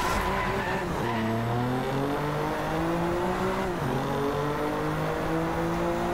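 BMW M4 drifting in Driveclub, with continuous loud tire squeal and wavering screech riding over a revving engine whose pitch climbs and dips through the slide.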